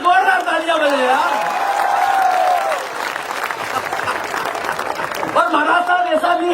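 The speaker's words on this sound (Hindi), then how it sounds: "महाराज साहब के लिए जोरदार तालियां बजे" Hall audience at a Hindi comic poetry show bursts into loud applause, sustained clapping over a voice that keeps talking on top of it.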